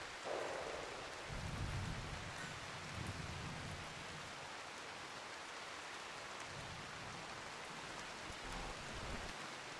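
Steady rain falling in the colony-building game Rimworld, a constant hiss with soft low rumbles swelling in and out, faint and even throughout, no speech.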